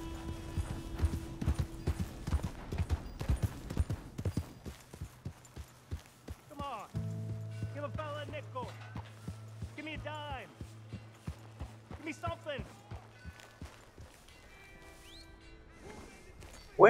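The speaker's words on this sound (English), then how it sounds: "That's the horse, right?" Horse hooves clip-clop in a steady trotting rhythm in Red Dead Redemption 2, fairly close and clear, with game music and someone talking over parts of it.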